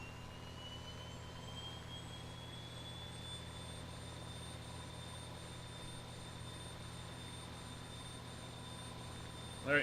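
A DHC-6 Twin Otter turboprop engine in a flight simulator spins up on its starter, giving a steady whining drone with a slowly rising tone and a low rumble throughout.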